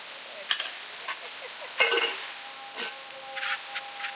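Spinach is stirred into a pot for palak mutton curry, with a spoon scraping and clinking against the pan in irregular strokes over a soft sizzle. The stirring is close and fairly quiet, with one louder scrape in the middle.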